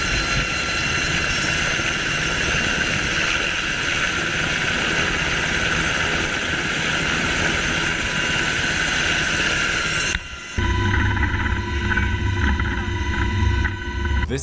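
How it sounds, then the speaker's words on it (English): A helicopter hovers during a rescue of people from a sunken boat, its steady rotor and turbine roar with whining tones running continuously, then the sound cuts abruptly to a lower, humming engine drone. "This helicopter rescuing people from a sunken boat."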